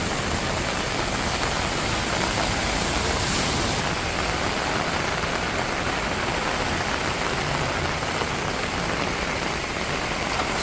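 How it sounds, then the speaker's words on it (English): Steady, heavy rain pours down in a dense, unbroken hiss throughout, loud and close with no voices, during extreme rainfall in Benidorm. "it is getting a little bit less, the rain now"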